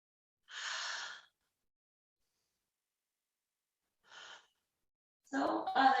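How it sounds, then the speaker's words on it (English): Deep breaths during a crocodile yoga pose, a long exhale, a short second breath after a pause, then a breathier noisy sound near the end, close and alone. "2 deep breaths here."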